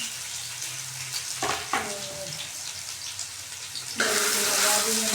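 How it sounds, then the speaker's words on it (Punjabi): Chopped onion and garlic hit hot oil in a pan for a potato and pea curry, giving a steady broad sizzle that jumps louder near the end, with brief clinks of stirring and no talking. "ਹੁਣ ਆਪਾਂ ਪਾ ਦਿੰਦੇ ਪਿਆਜ਼ ਤੇ ਲਸਣ ਇਕੱਠਾ ਹੀ ਪਾ ਦਿੰਦੇ"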